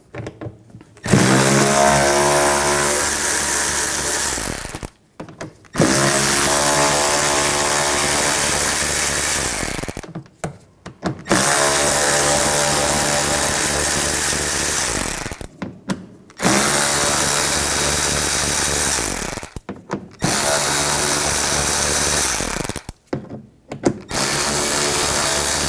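Power tool fitted with a 7mm socket backing out screws on a 2013-2019 Ford Escape during washer reservoir replacement, whirring loudly in five long bursts separated by short pauses.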